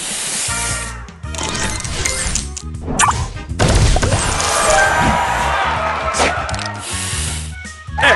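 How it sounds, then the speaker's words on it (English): A spray booster effect fires in the Match Masters puzzle game, a hissing burst of spray layered with chimes, clinks and crashes over busy, continuous game music. "Booster ready! Spray on!"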